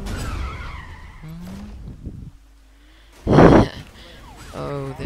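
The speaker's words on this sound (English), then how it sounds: "Oh, this car sounds amazing." Porsche Cayman S engine in the racing video game NFS Rivals, a brief loud burst of revving and tire noise midway, with quieter engine and game sounds and someone talking around it.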